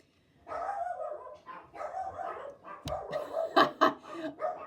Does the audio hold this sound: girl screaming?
no